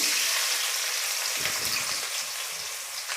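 Chopped onions hit hot oil in a pan and set off a loud, dense, steady sizzle that carries on unbroken throughout, with no voices.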